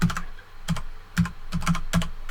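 Quick, crisp keystrokes as a username is typed on a computer keyboard, coming in small clustered bursts of clicks at close range, with no voices.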